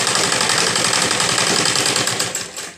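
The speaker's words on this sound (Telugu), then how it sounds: "నేను ఇట్లా కుడుతున్నా." A sewing machine runs steadily, stitching the fold of a blouse in a fast, continuous whirring rhythm up close, easing off slightly at the very end.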